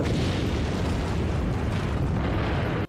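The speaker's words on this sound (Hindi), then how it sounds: "इजरायल की एयर स्ट्राइकों ने रात में सोते गाजा को दहला दिया।" Israeli air strikes on Gaza at night produce a loud, sustained roar of explosions, a continuous rumbling blast that fills the whole stretch before stopping suddenly.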